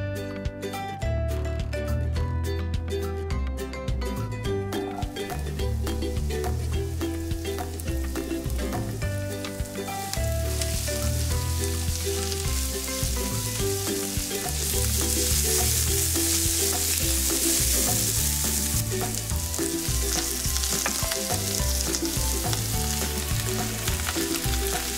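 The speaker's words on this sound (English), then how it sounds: "Let's saute these in some olive oil for about 5 to 7 minutes until they're soft" Vegetables sauteing in olive oil in a pan for pizza toppings, a steady close sizzle and crackle running throughout, with music playing over it and the frying growing slightly brighter toward the end.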